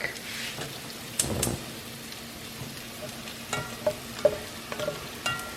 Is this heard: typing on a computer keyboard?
no